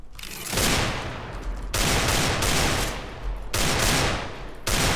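Bursts of automatic gunfire from a CS:GO match, loud and continuous, arriving in roughly three sustained sprays separated by very brief breaks, with no talking over them.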